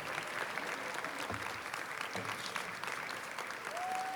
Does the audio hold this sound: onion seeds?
no